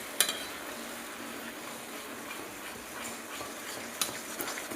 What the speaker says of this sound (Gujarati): મસ્ત હલાવતા રહીશું.